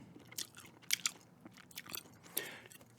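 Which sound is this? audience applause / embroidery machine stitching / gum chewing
gum chewing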